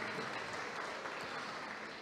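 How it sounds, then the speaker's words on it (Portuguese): A crowd at an awards ceremony applauds Lilian with faint, steady, even clapping heard from a distance. "uma salva de palmas a Lilian"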